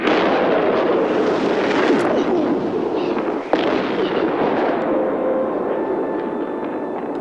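A film's Astrophage explosion goes off as a loud, sustained roaring blast with crackling bursts, a sharp crack midway, then a gradual fade.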